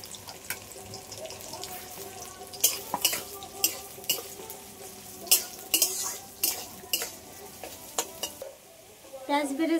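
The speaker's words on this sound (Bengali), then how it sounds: "পেঁয়াজগুলো আমি এবার ভেজে নেব" Onions frying in a pan for mutton biryani, with a steady sizzle under repeated sharp clinks and scrapes of a utensil stirring against the pan, close and fairly loud, with no talking.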